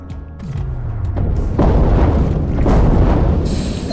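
A loud, deep explosion rumbles in the video game Dave the Diver, a heavy sustained boom that swells and rolls on for several seconds at close range, with no talk over it.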